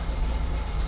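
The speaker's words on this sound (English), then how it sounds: "And it's idling." A BMW E21 323i with a suspected blown head gasket idles steadily, its low engine rumble constant and close for under a second with no other sounds.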